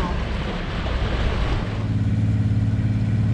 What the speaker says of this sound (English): Sounds like there's a lobster boat out this way.